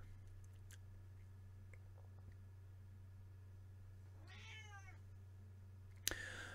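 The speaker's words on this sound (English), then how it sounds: "the cat is out here making noise." A house cat meows several times in a rising-falling run in the middle of an indoor room with a steady electrical hum, followed by a sharp louder sound near the end.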